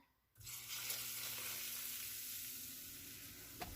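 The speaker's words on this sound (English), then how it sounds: "here comes the hot oil" Hot oil poured into a pan with grits, fried cod and fish cooking for cornbread dressing starts a sudden, steady sizzle after a brief hush, close and continuous, with a faint clink near the end.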